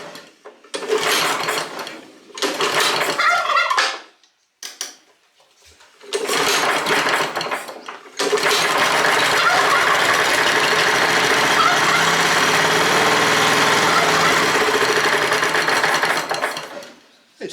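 A neglected Honda F810 rotavator's petrol engine, primed with extra fuel, cranks in several short bursts with gaps between them, then catches into a sustained loud running rattle that carries to the end.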